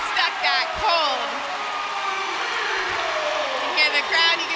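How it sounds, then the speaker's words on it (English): Crowd cheering fills an arena at an Oklahoma at Georgia college gymnastics meet after a stuck vault landing, a sustained roar with swells near the start and end, while a commentator talks over it. "You hear the crowd, you can see her excitement"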